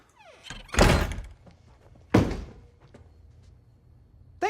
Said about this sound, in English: Shut the front door.